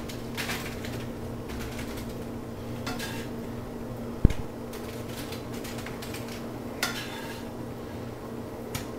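Ground meat being spooned over tortilla chips spread on a cookie sheet for high-protein nachos. Faint scraping and soft clinks of the spoon run quietly throughout, with one sharp metallic tap partway through.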